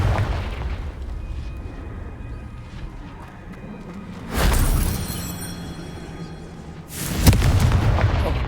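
Two loud, booming blasts from the Confringo fire spell explode in Hogwarts Legacy, the first striking midway through and the second a few seconds later, each with a crackling tail, over a low rumbling game ambience.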